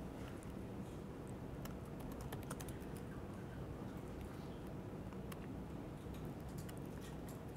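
Faint, quick keystrokes on a computer keyboard come in scattered irregular bursts over a steady low background hiss, with no voices.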